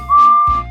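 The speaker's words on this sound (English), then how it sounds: "The guard blew his whistle" A railway guard's whistle gives a short, shrill blast, steady and piercing, lasting under a second and heard close by on its own.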